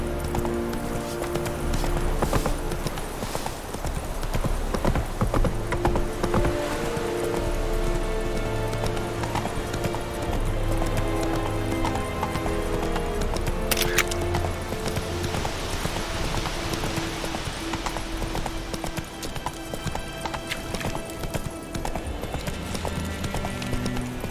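Roach the horse in The Witcher 3 video game trots with steady rhythmic hoof clip-clops on a road, mixed with game music and ambient sound throughout.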